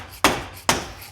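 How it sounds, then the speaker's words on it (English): Three sharp, solid thuds from a dead blow hammer striking a CV axle in the wheel hub of a 2002 Monte Carlo SS, evenly spaced about half a second apart, close and loud with no talk. "So grab a dead blow hammer."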